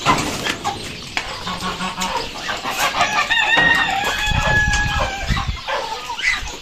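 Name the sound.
chickens clucking and rooster crowing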